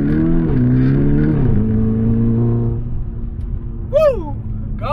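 A VW with a 1.9 TDI diesel engine accelerates hard, its engine note climbing through a couple of gear pulls before easing off, followed by a brief excited shout from inside the car.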